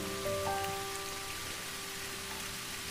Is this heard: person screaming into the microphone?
no